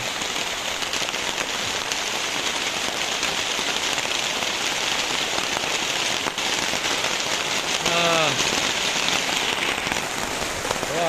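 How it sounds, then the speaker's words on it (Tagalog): Steady, dense rain hissing and pattering on surfaces, continuous and close, with a brief faint chirp partway through. "Ayan, umulan na po."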